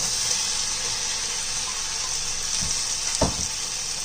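Chickpeas dropped into hot coconut curry paste in a pan, a steady bright sizzle throughout with a couple of brief clatters near the end, close and fairly loud.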